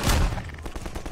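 Burst of gunfire in Half-Life 2 during a firefight, a loud opening blast followed by a quick run of sharp cracks that trails off over about a second, with no talk over it.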